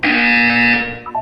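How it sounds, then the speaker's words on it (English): A loud, harsh electronic buzzer from the video game Portal 2 sounds once for about a second, steady and close, then cuts off with a short tonal blip. "You will hear a buzzer"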